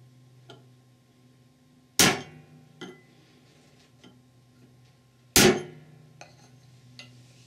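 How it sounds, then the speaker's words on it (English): Hammer blows on a V-shaped punch restaking a plug in a Ford E4OD/4R100 transmission: two sharp, loud metallic strikes a few seconds apart, with faint lighter taps in between in a quiet room. "Use a V-shaped punch or a sharpened screwdriver to restake it."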